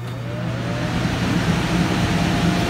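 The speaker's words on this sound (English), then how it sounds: "Hear that cranking right now, and the air blows out of here." A new portable air conditioner in a small bedroom starts up with a steady loud mechanical hum and whoosh that builds slightly, continuous and close, with no one talking.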